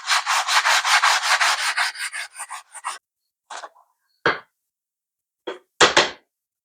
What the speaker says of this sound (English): Now I'm just going to take a sanding block and some 120 and we're just going to go around the edges, kind of sand them down